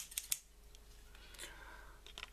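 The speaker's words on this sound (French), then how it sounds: "il faut jouer du ciseau" Scissors snipping folded paper to cut a Christmas paper snowflake, a few short crisp snips near the start and again at the end, quiet and close, with faint background noise between.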